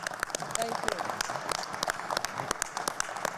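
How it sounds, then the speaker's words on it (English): Audience applause at a Philadelphia public meeting, a short burst of many hands clapping, fairly close and steady, with no talk over it. "Can we give that a round of applause, please?"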